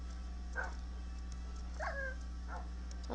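A tamed dog in the Minecraft video game gives three short yipping barks, spaced about a second apart, over a steady low background hum.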